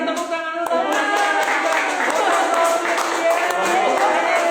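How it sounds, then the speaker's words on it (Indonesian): Indoor audience clapping at a business talk, a dense burst of many hands applauding steadily with crowd chatter mixed in. "tepuk tangan lu, tepuk tangan"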